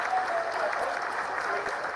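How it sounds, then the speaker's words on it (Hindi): Sustained applause fills a mission control room during the Chandrayaan-3 lunar landing, a dense, steady patter of many hands held at even loudness for the whole stretch, with no voices above it. "Lot of applause indicates that till now the performance has been nominal."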